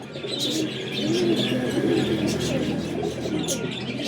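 A Kasuri flying pigeon coos in steady low warbling phrases close up, joined by light chirps and a few sharp flutters throughout.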